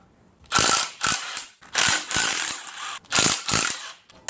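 Rapid ratchet clicking in several loud bursts separated by short pauses, close up, as bolts are loosened on the clutch pressure plate of a Mazda Miata.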